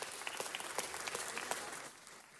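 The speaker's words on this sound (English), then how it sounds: "That's worth an applause, don't you think?" A small audience applauds the K-Love 107.5 FM Spanish radio station's 40th anniversary, a brief burst of scattered claps that fades out after about two seconds.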